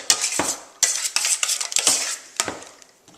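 A spoon stirs cucumber, onion and sour cream salad in a bowl, giving a series of close, irregular scraping and clinking strokes against the bowl with short pauses between them.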